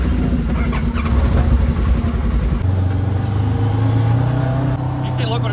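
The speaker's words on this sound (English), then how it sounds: "You can start your engine." A side-by-side utility vehicle engine runs steadily with a low hum, then shifts to a higher idle tone partway through as it revs slightly, with faint background noise around it.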